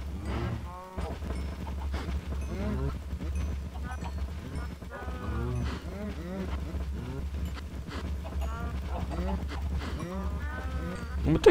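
A herd of Minecraft cows lowing repeatedly, overlapping moos and grunts arriving in irregular bursts over a low steady hum, close and fairly loud throughout.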